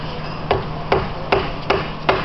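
Evenly spaced dull knocks, five taps about half a second apart, a non-metal hammer striking a Ford Focus front-wheel-drive transmission case over a low steady hum.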